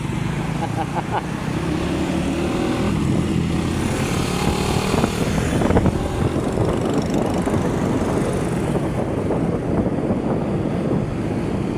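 Road traffic rushes by outside a moving vehicle, a dense broadband roar mixed with wind buffeting the microphone, steady and loud across the whole stretch, with some talking underneath.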